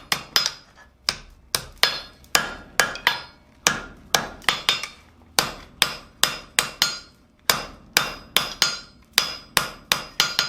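Hot steel forged on an anvil into an acanthus leaf hook: a long run of sharp, ringing hammer blows, close and loud, falling in quick rhythmic groups with brief pauses between.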